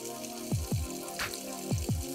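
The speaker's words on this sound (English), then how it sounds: "this is the water faucet in my kitchen" Water running from a kitchen faucet, a steady flowing hiss with a few deep, resonant gurgling plops recurring in pairs, heard close and alone.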